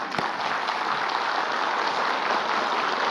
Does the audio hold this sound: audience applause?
yes